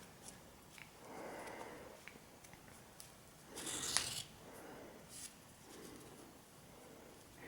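Scissors snip a crochet yarn tail on an owl project, a few quiet close cuts with one sharper, brighter snip in the middle against an otherwise hushed room.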